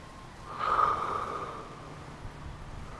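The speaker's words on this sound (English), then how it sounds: "Deep breaths." A single deep breath drawn during a seated twisting stretch in a strength and flexibility workout, a soft, breathy rush swelling for about a second, then a quieter exhale trailing off, close and without talk.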